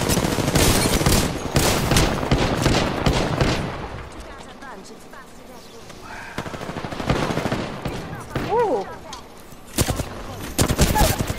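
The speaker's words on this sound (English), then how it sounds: "Grenade on me." Rapid automatic gunfire bursts loud and close in the battle royale game Apex Legends, fading briefly midway before heavy firing resumes, with players talking over it.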